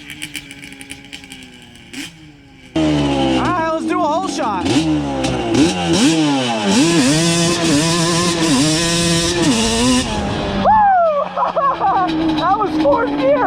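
A Banshee 350 ATV engine revs hard for a hole shot, loud and close, with rising and falling revs as it launches and shifts, then settling back toward idle.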